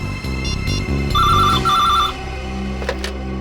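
A telephone rings at night in an Indian crime drama, with a loud trilling electronic ring in two short bursts over a steady background music bed, ending with a couple of sharp clicks.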